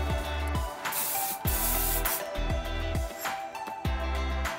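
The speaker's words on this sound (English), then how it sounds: "Now I'm just gonna spray my curls" Repeated bursts of aerosol hairspray hiss close by onto curled hair, several short sprays in a row with brief pauses between them.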